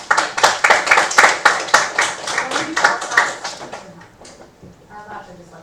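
A group in a classroom claps together in a quick, even rhythm. The crisp claps are close and loud, then taper off into scattered quieter claps.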